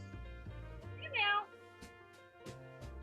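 A single short cat meow rises briefly in the middle, moderately close, over a steady low electronic drone with periodic clicks and thumps.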